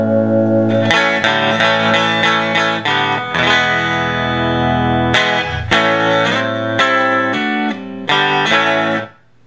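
Bright, clear acoustic-electric guitar played through a piezo pickup into an amp, a run of strummed chords and picked notes ringing fully across lows and highs before stopping.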